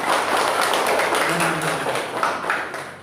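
Clapping from a group of students in a primary-school maths classroom, a steady dense patter of hands lasting the whole moment, close and moderately loud, with a few voices mixed in.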